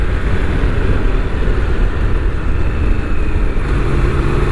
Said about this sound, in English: The engine note is quite different to what I expected.